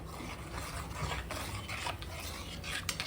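Water with cumin powder and salt being stirred in a cooking pot, a steady close swishing and faint scraping that runs continuously for a few seconds without any voice.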